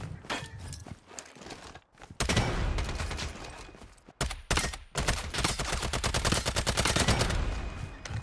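Gunfire in a shooter video game rings out in rapid bursts, loud and close, with short gaps between rattling volleys.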